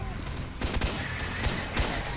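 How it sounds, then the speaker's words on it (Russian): Rapid gunfire bursts in the shooter video game S.T.A.L.K.E.R., several sharp overlapping shots cracking loudly in quick succession over a steady ambient game background. "Там стрельба сразу."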